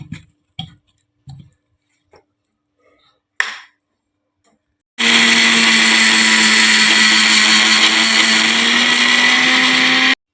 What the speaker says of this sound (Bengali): এটাকে একবার মিক্সিতে পেস্ট করে নিয়ে আসি